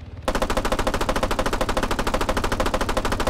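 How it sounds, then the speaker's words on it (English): Light machine gun in Arma 3 firing a long, rapid, unbroken burst of evenly spaced shots, loud and close, starting abruptly after a brief quiet moment. "even with this LMG. And look how fast it fires."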